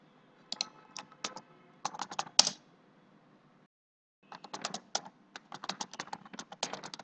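Bursts of keyboard typing at close range on a computer keyboard: quick irregular clusters of key clicks, a pause of about a second, then another run of rapid keystrokes, with no talking.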